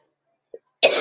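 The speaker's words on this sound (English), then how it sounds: "You have to excuse my coughs." A single short cough bursts out near the end after near silence, loud and close, preceded by a faint tiny throat sound.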